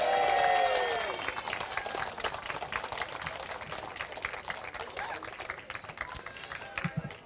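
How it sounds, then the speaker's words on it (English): Audience clapping and cheering for a repeat race winner on the podium at a cadet kart Grand Prix, a broad sustained applause that starts loud and settles into steady clapping. "Round of applause, please, for Fusion Motorsports 45, Noah Wolf."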